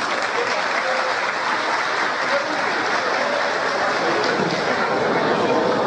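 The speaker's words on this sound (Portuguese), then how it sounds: "Salve de palmas." An audience bursts into sustained applause at the launch event for the 18th ExpoAC agricultural fair, dense clapping that carries on steadily without fading.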